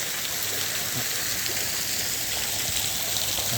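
A small waterfall at the Ana Anan Resort and Villa in Pattaya makes a steady, even rushing hiss of falling water, close and continuous with no talk.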